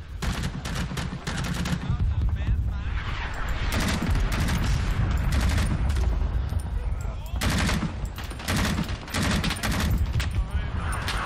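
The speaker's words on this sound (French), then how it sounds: "Tir automatique." Automatic rifle fire in Rising Storm 2: Vietnam, loud sustained bursts of rapid shots, close and constant, with booming explosions and distant gunfire layered throughout the battle.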